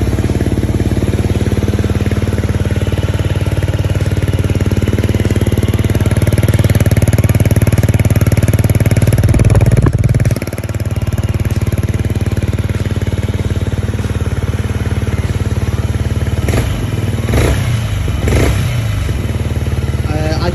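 A Yamaha XSR 125 motorcycle fitted with a Leo Vince LV One Evo exhaust runs close by, its loud, steady engine drone holding throughout with a brief dip near the middle and a few revving blips toward the end.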